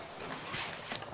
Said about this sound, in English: I tend to feed the kind of calmer, more important dogs in the pack first